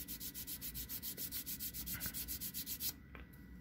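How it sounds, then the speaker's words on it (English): Small plastic model kit parts for a Build Strike Exceed Galaxy's legs are sanded in quick, steady back-and-forth rubbing strokes. The strokes are close and rhythmic and run for about three seconds before stopping. "Sanding."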